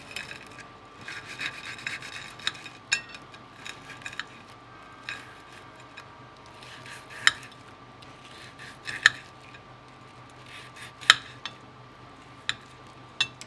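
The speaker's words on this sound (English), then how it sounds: "Here's the octopus tail fried. Just gonna cut it a little bit." Knife sawing through fried octopus tail on a plate, a close, repeated rasping scrape with sharp clicks and taps of the blade against the plate, steady and fairly quiet.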